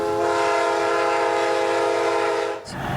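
A train horn blares in a railroad quiet zone in Beaumont, a loud, sustained chord that holds for nearly three seconds before breaking off, with low rumble underneath.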